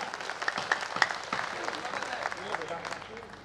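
Audience clapping at a Hindi kavi sammelan poetry recital in Beohari, a steady, fairly faint patter of many hands with murmuring voices mixed in throughout.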